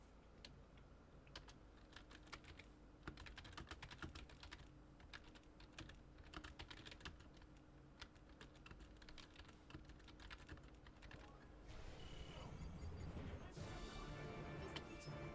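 Rapid clicking on a computer keyboard, fast irregular keystrokes played close and fairly quiet, with a louder burst of sound near the end.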